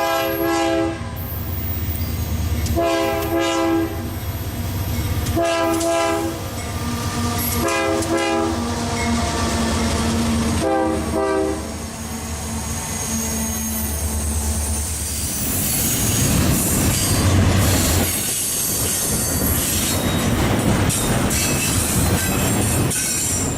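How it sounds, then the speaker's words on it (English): Union Pacific intermodal freight train led by a former Southern Pacific locomotive in Camden, Arkansas, a loud, close multi-tone horn sounding in repeated blasts over the heavy engine rumble, then the roar and clatter of the passing cars. "Here is an intermodal led by a former Southern Pacific unit."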